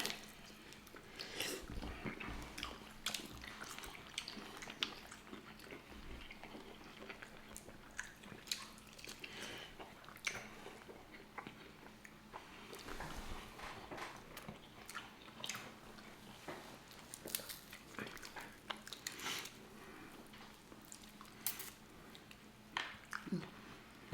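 Close, wet chewing and biting on boiled, deshelled seafood such as black tiger shrimp, cocktail crab claws and snow crab, with soft squishy bites repeating irregularly throughout.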